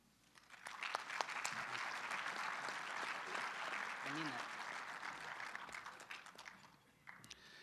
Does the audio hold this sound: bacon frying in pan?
no